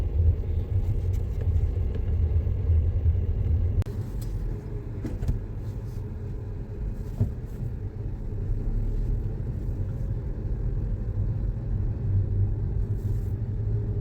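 A car engine rumbles steadily from inside the cabin as a beginner driver gently presses the accelerator, a continuous low drone with a few faint clicks and rattles.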